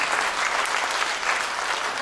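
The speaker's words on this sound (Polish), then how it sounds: "Jeszcze raz brawa dla nich oczywiście." An audience claps steadily for filmmakers at a film festival screening and meeting, a dense, even wash of applause throughout with no talking over it.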